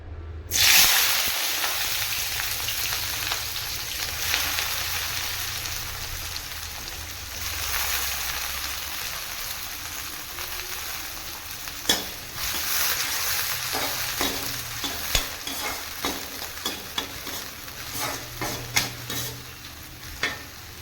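Onions drop into hot oil in a pan for a banana flower egg fry, bursting into a loud hiss that settles into a steady sizzle, with scattered scraping stirs growing more frequent toward the end.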